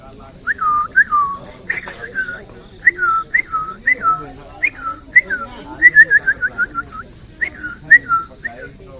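A person whistles an imitation of a laughing bird's call, a chatter of short, quick, falling notes delivered in uneven runs over a steady background hum.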